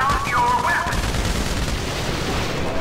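Sustained video game gunfire in GTA V during the Paleto Bay bank heist as shots rake a fence, a dense, loud, continuous barrage over the whole stretch.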